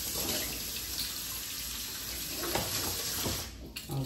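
A measuring spoon, just used for vanilla extract, is rinsed under a running kitchen tap, giving a steady close water rush for about four seconds that thins and stops near the end.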